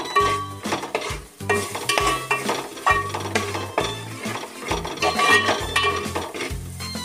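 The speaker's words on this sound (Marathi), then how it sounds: "आता आपण याला चांगला मिक्स करून घेऊ" Paneer tikka marinade with coriander and cumin powder being mixed in a bowl, a steady scraping and stirring with spoon clinks against the dish, close and continuous, no voices.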